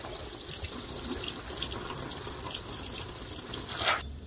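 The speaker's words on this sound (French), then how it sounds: "je vais les arroser. L'arrosage est primordial après un rempotage." Repotted Cotoneaster dammeri 'Coral Beauty' plants get a thorough watering, a soft steady splash and trickle of water pouring onto soil, close and quiet, that stops abruptly at the end.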